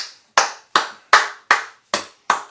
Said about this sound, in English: Clap it up.